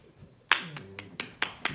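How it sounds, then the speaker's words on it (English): Several sharp hand claps ring out alone, one loud slap followed by four or five more spaced roughly a quarter second apart, close and crisp with short room echo. "Yeah, big claps."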